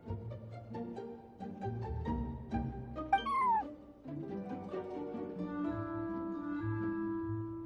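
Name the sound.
cat meowing in the video game Genshin Impact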